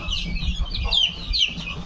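Young chickens being raised by hand chirp and cluck in quick, high, overlapping calls, close by over a steady low background rumble.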